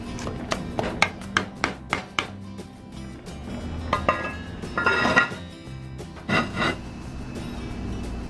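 Taro leaves being smashed down into a pot of coconut milk for laing: a run of sharp knocks against the pot, then duller scraping and rubbing bursts, close and fairly quiet, with no talking.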